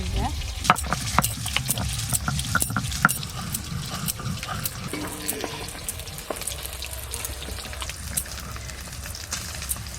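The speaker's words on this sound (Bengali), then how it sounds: "এই মাছগুলো ভাজা হয়ে গেল" Large snakehead (shol) fish frying in oil in a home kitchen pan, a steady, close crackling sizzle with sharp spattering pops and occasional stirring clatter throughout, with no talking.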